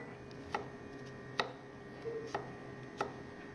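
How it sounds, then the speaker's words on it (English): A kitchen knife thinly slicing onions on a board gives four or five crisp, evenly spaced cuts over quiet room tone, fairly close and soft. "I'm gonna thinly slice some onions"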